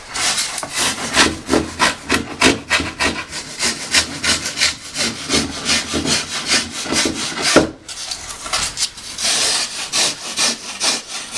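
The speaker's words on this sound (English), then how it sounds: "if we need to get a little bit closer, we can use the rasp" A rasp files rapidly back and forth across wood and foam while a boat is being built, loud and close with a quick rhythmic scrape and one brief pause partway through.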